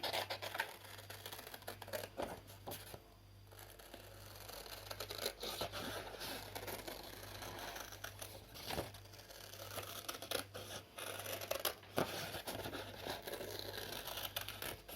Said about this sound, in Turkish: Hemen bunu da keselim.